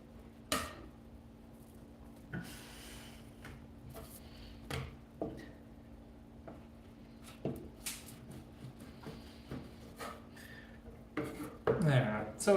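A knife butterflies a steak and slices it thin, giving a series of sparse, quiet scraping strokes and taps on a cutting board at irregular intervals, with clattering near the end and a faint steady hum underneath.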